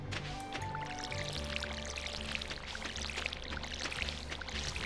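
Crops being watered in the Stardew Valley farming game, a steady pouring, trickling water sound running continuously at moderate level over soft background game music, with no talk.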